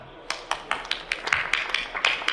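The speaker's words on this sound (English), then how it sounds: "Give a quick clap." Small audience at a council innovation festival giving a quick, sparse clap, a handful of separate claps building into a brief scattered patter.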